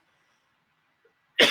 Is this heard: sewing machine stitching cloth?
no